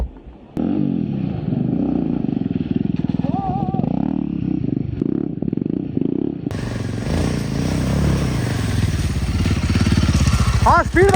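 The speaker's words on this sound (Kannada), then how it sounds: "ಪುನಃ ಇಲ್ಲಿ ಸ್ಟಕ್ ಆಯಿತು ಬೈಕ್" An off-road motorcycle stuck on a rough trail in Karnataka, its engine revving loudly and close in repeated bursts between rougher idling, with people talking over the noise.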